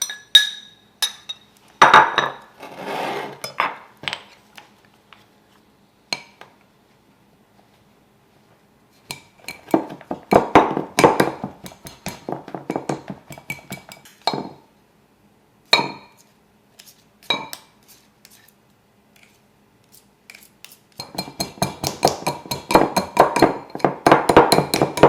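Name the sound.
blending rhubarb into baking mix in a bowl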